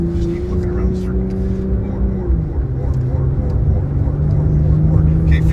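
A BMW car accelerating around an autocross circle, the engine holding a steady drone that drops in pitch and then builds again, loud and close, with people talking over it.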